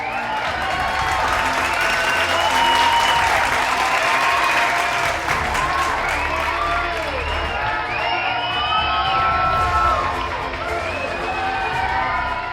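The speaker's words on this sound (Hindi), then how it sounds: "तालियों की गूंज में इस्तकबाल कीजिएगा जनाब इमरान खान" A large audience bursts into sustained, dense applause with cheering and whoops to welcome Imran Khan at an awards event, loud and continuous throughout, with some voices calling out over the clapping.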